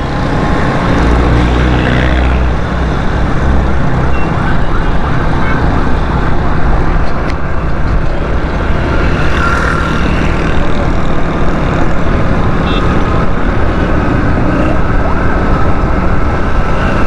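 A loud ambulance siren wails continuously amid heavy traffic rumble and engine noise on Karachi streets near Lyari Expressway, close by and sustained.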